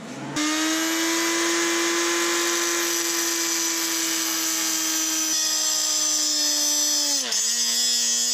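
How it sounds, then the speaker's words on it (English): A small power tool, likely a rotary cutter, whines steadily at high speed while cutting lightly through a metal hose clamp on a BMW E46 M3 expansion tank fitting, then briefly dips in pitch near the end. "Now we're gonna cut off this metal clamp."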